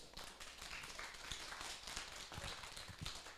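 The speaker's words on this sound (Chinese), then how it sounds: "那我们再用掌声欢迎" A class in a lecture room on modern Taiwanese history gives a faint round of applause. Scattered, uneven claps come from a distance throughout.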